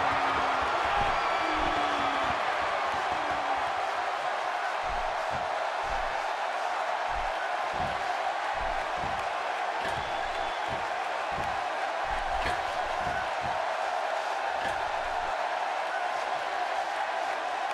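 A wrestling arena crowd roaring steadily at a match, a continuous wash of cheering and noise heard at a distance with scattered thumps beneath, while a commentator talks over it.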